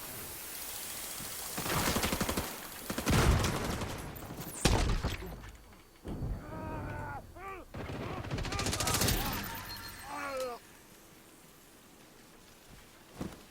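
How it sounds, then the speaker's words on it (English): A thrown frag grenade and bursts of automatic gunfire in The Division, with dense crackling shots, sharp blasts and brief pauses, loud and close, mixed with shouted game voices. "Throwing a frag!"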